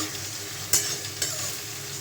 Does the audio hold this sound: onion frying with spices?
yes